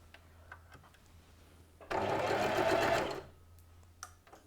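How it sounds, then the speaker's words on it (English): A sewing machine stitches a short, steady burst of about a second, sewing right-angle turns slowly, with faint clicks before and after in an otherwise quiet room. "So now I want you to sew right through all of these dots that you've drawn in a series of right angle turns"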